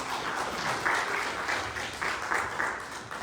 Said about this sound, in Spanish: Un aplauso a Cristo Jesús.